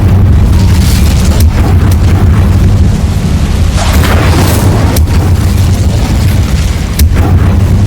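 Incendio fire spell blasts in Hogwarts Legacy, loud, booming fiery bursts repeating every second or so over a heavy, continuous rumble of flame and combat noise.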